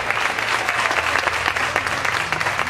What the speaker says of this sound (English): Give a big round of applause too for Kelsey, my wife, please